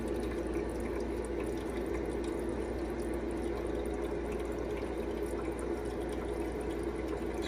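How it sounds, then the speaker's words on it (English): A Euhomy countertop nugget ice maker pumps water up into its upper reservoir, giving a steady, faint trickle and gurgle of filling water over a constant low pump hum with no pauses. "Now it's filling up the upper reservoir to chill again"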